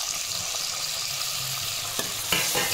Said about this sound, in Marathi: जिरे छान फुलल्यानंतर याच्यामध्ये मी हा बारीक चिरलेला कांदा टाकते